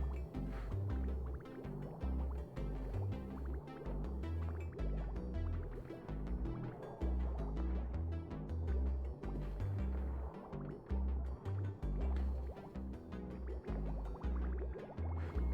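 Liquid coolant pours and gurgles while a PC water-cooling loop is being filled, with repeated bubbling glugs and drips in an uneven rhythm, close and fairly loud, with no talking.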